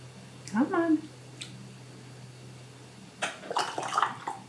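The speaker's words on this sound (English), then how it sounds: "I'm just pouring it through a sieve so it just collects the little bits" Pea pod broth is poured through a sieve into canning jars, giving short wet splashes and trickles in two bursts, with a voice speaking between them.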